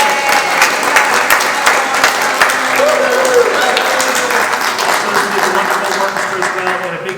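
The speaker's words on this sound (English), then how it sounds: "one round of applause. These wonderful musicians here." Loud, sustained audience applause for the musicians after a performance, a full hall clapping steadily with faint voices and a cheer mixed in.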